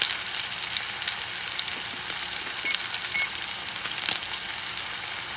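A thick bison T-bone steak fries in a cast iron pan, giving a dense, continuous sizzle with small pops and crackles, close up and steady with no talking.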